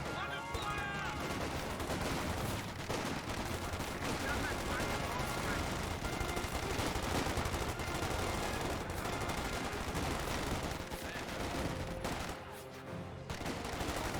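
MG34 machine gun bursts and other weapons fire in a Company of Heroes 2 battle, a constant loud mix of automatic rattling and shots with no gaps.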